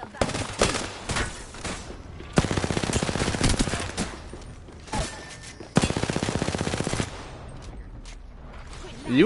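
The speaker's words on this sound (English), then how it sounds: "You be hip firing with everything." Hip-fired automatic weapons rattle in a video game, with rapid machine-gun bursts of a second or more that stop and start, interspersed with single shots, loud and close.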